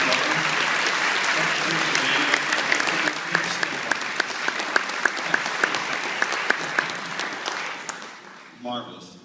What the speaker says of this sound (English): So what a nice round of applause for those parents